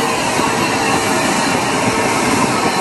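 An injector opened on a steam locomotive gives a loud, continuous broadband hiss and rush of steam that fills the whole clip, steady and close.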